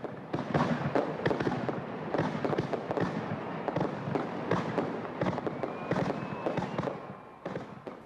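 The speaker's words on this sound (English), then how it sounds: "4th of July weekend activities came to a thunderous conclusion on Sunday night with a fireworks display that lit" Fourth of July fireworks display over Lake Orion, Michigan: a dense, continuous barrage of booms and crackling bursts, loud and irregular, echoing across the water at night.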